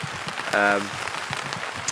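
Rain falls on a fishing lake during a 24-hour session on Miners Lake, a steady close hiss of drops pattering on surfaces with a brief tonal sound near the middle.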